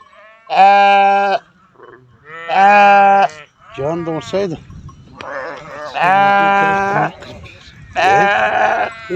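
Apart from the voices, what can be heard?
sheep bleating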